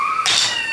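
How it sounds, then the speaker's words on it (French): A cat lets out one short, loud crying meow close by at bedtime, a single sharp wail that trails off quickly. "Ça c'est un des pleurs fréquents du chat."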